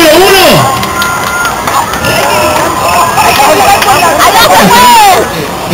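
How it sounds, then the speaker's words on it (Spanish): A crowd cheers loudly at a dance contest, with steady hubbub, shouts and whistles filling the whole stretch without pause. "Esto es por aplauso, maestro. Aplauso por la número 1."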